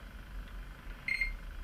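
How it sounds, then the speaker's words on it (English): A multimeter gives a short, faint electronic beep while probing a bridge rectifier and charged capacitor on an LCD TV power supply board, a brief chirp over quiet room noise. "a little bit of a beep when the capacitor is charged in circuit"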